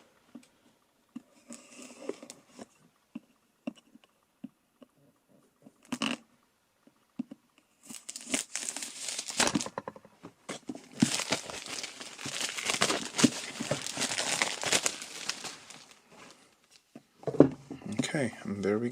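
Cardboard and plastic packaging of a Bang & Olufsen Beoplay H9i headphone box being ripped open: scattered small crinkles and taps, then a long stretch of loud tearing and crumpling up close, with a voice talking briefly.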